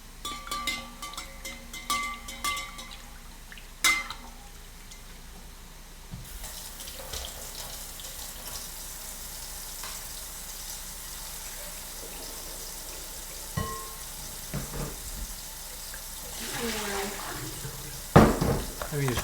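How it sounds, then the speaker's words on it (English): Vegetables are rinsed under a running kitchen tap, a steady hiss of water with soft splashes and occasional clinks, fairly quiet and continuous, swelling briefly louder toward the end. "Let me just wash all the veggies up really quick."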